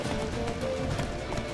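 A horse gallops in The Witcher 3: Wild Hunt, a fast, close run of hoof clops lasting the whole moment under a dense, loud game soundscape.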